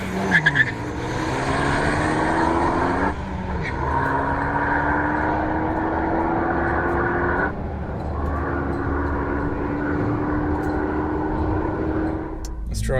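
A Renault Megane Performance accelerates hard down a drag strip, its engine note climbing steadily through the revs with two clear gear changes, loud and close throughout.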